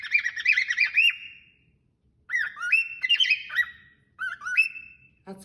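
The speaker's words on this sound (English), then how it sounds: "That's a bird call." A bird calls in bright, repeated chirping phrases, close and clear, with short pauses between bursts and a faint click at the end.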